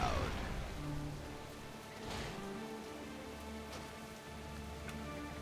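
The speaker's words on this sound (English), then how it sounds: "We weren't expecting rain." Steady rain patters across the outdoor world of the online game World of Warcraft, a soft continuous hiss that fills the whole stretch without pause, with low game music tones humming underneath.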